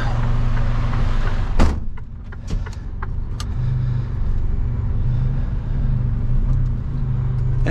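Steady low engine drone and road rumble from inside a truck cab during a long drive on the road, continuous and close, with a brief thump and a few faint clicks and rattles along the way.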